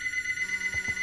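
A telephone rings late at night within a Minecraft game, giving a steady electronic ringing tone that holds throughout the short stretch with no voices.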